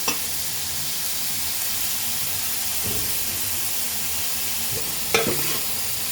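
Kothu parotta ingredients sautéing in a pan make a continuous, even sizzle, with a few sharp clanks from the spatula against the pan at scattered moments.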